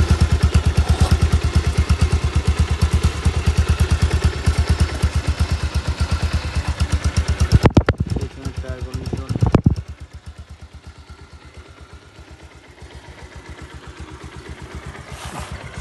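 A Bajaj Pulsar 150cc single-disk motorcycle idling, a steady rapid single-cylinder putter that lifts briefly in two revs, then settles to a quieter, even idle.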